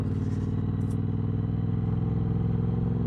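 Bobber motorcycle cruising on quiet evening roads, its engine giving a steady, continuous low thrum close by throughout, with no voices over it.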